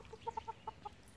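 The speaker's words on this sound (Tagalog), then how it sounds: "mga alagang manok dito sa probinsya" Chickens kept in a rural province give several soft, short clucks in quick succession, fairly faint against a quiet background.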